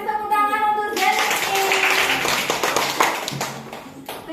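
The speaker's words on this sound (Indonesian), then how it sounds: "kasih tepuk tangan untuk Jenny" Classroom applause for a student breaks out after a brief voice at the start, a dense burst of many hands clapping that carries on steadily to the end.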